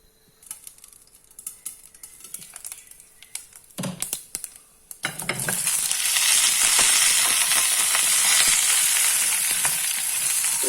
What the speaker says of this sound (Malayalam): ഇനിയും കടുക് പൊട്ടട്ടെ